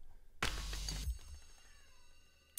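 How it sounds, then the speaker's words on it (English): A pet cat lets out one loud, drawn-out meow close by indoors, followed by quiet room tone with faint sustained tones of a beat playing. "That is my cat in the background"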